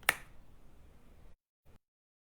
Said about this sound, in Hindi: चुटकी बजा करके